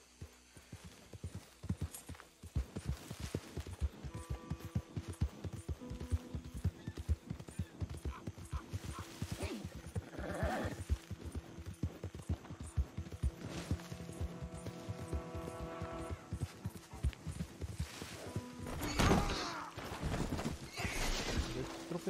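A horse in Red Dead Redemption 2 neighs loudly over a rhythmic clatter of hooves, with a player talking throughout and game music and ambience behind.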